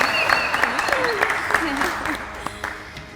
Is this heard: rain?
no